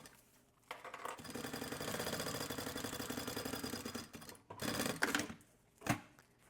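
A sewing machine stitches a 7 mm seam along the lining of a fabric thermal bottle holder, a close steady whirring run of several seconds followed by short bursts and clicks as it stops and restarts.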